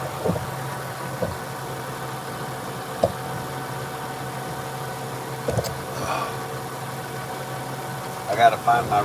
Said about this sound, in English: Hush up, tractor.